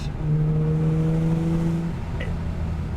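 A supercharged BMW E46 M3 engine drones steadily with a deep exhaust note, holding a sustained pitch before easing off near the end.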